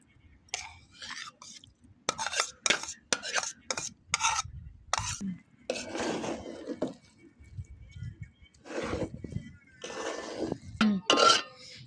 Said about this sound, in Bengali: এই তো মাংস ঢেলে দিব এখন